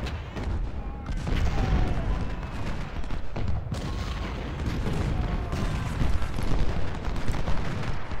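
A volley of massed gunfire in Ultimate General: Civil War, the Civil War strategy video game, a continuous dense rumble of musketry and booms, heavy and steady throughout with no talk.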